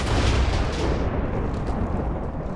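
A continuous roaring explosive blast from an electric bow weapon in Minecraft, dense rumbling booms filling the whole stretch before tapering slightly.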